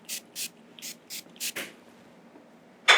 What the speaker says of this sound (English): And I'm going to spray them with our hand cleanser.